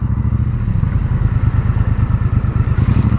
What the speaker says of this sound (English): the throaty exhaust sound